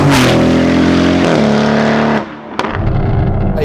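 A Novitec-tuned Lamborghini Urus SE hybrid V8 SUV revs loudly and close, its deep exhaust note holding steady then dropping off before a sharp crackle and a renewed rumble.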